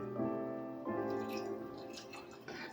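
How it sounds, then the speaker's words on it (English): Hot water is poured into a cup of loose tea brew, a steady close trickle whose tone rises as the vessel fills. No one speaks. "So I'm going to just put my hot water in."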